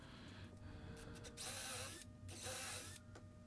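A power drill bores holes in barnwood with short, fairly quiet whirring bursts that rise and fall, heard close up with no talk.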